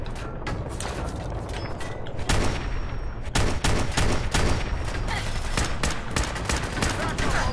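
Dense, loud bursts of automatic and rapid gunfire in a Fallout 4 firefight, volleys overlapping almost continuously with brief gaps, close and harsh.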